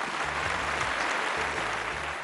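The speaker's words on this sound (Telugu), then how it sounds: "చప్పట్లు చప్పట్లు" Studio audience applause on a Telugu TV show, a dense steady wash of clapping lasting a couple of seconds with faint background music underneath.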